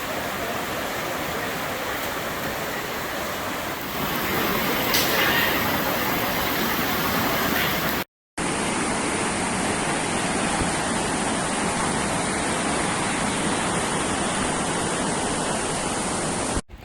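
Loud, continuous roar of the rushing Rio Cuale river, a dense broadband wash with no pauses apart from a brief cut midway.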